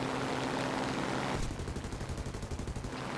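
A Spitfire Mk.1 in War Thunder fires its machine guns in a fast, steady stream of rapid shots, heard over constant engine drone after a brief stretch of engine noise alone.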